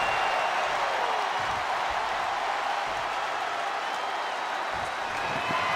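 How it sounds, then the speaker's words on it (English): A WWE wrestling arena crowd applauds and cheers in a steady, dense wash of clapping and crowd noise that holds at an even level throughout, heard from a distance. "The WWE Universe is showing their appreciation for the action they're seeing."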